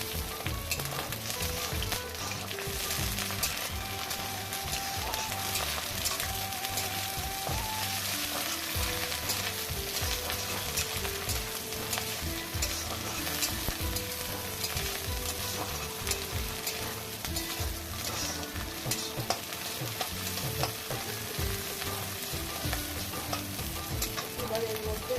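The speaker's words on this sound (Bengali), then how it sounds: "একটু ভেজে নিই।" Small local prawns fry with already-browned onion in a pan, a constant bright sizzle broken by regular scraping stirs, close and unbroken throughout.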